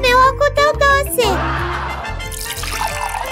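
Water in a children's experiment, trickling and splashing after short bursts of a voice, continuing as a steady liquid wash to the end.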